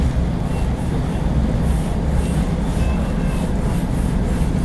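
Vande Bharat Express train overtaking another train on the Patna to Howrah route, heard from inside as a steady loud rumbling roar of wheels and rails with no speech.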